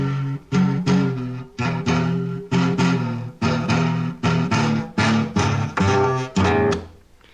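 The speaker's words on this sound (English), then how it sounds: "And here's the sound of a drunk rattlesnake in a delicatessen." A comedy sound effect of a drunk rattlesnake in a delicatessen: loud, rhythmic bursts of a buzzy, rattling drone, about a dozen in a row, heard alone.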